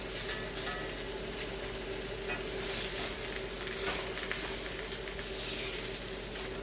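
A tri tip steak sears hard in a hot pan, a steady, close, loud sizzle and crackle that runs unbroken for several seconds.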